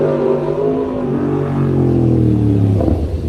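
A motorbike engine revving loudly and continuously at close range, the rumbling pitch rising and falling, with no talking.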